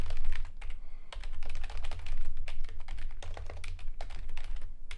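Rapid, steady typing on a computer keyboard, with dense clicking keystrokes close by and a low hum underneath, no voices.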